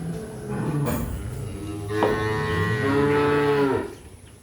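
Cattle and calves on a farm in the morning give long, loud, close moos, one drawn-out low call rising into another, with no talk over them.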